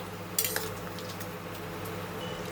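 A spoon scrapes and clinks against a pan while stirring potatoes coated in white and black mustard paste with a green chilli, over a low, steady cooking hiss.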